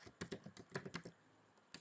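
Typing on a computer keyboard while entering a formula, a quick run of close, crisp keystrokes followed by a brief pause and one final tap, quiet, with no talking.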